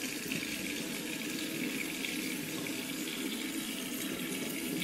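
Warm water running steadily from a tap during a test of underfloor heating, a continuous even rushing hiss, faint and unbroken, with no talk.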